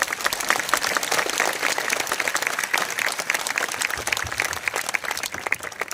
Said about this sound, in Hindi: ताली से आदर और सम्मान दीजिए